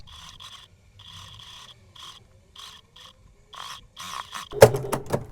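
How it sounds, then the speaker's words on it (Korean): A sewing machine stitches the neckline seam of a toddler's dress in short, rhythmic bursts of quiet mechanical whirring, ending with a few sharper clacks up close. "반대쪽도 마찬가지로 박음질 해줄게요"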